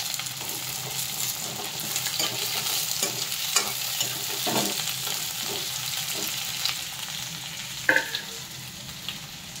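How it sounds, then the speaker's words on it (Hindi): Chopped onion and green chilli sizzle and fry in a pan, a soft steady crackling hiss with occasional stirring scrapes and clinks, close by, with no voices. "ये देखिए मैं डाल लूँ प्याज"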